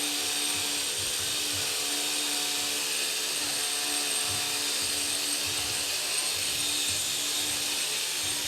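A robot's shooter wheel runs at speed with a steady high-pitched mechanical whine and whirr, constant and fairly loud throughout with no talking.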